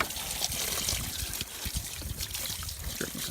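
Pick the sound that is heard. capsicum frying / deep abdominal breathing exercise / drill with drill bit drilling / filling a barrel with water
filling a barrel with water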